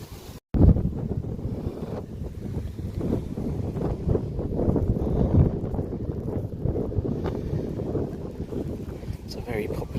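Strong gusty wind buffeting the microphone beside a canal, a loud continuous rushing roar with fluctuating bursts, and a voice speaking under it.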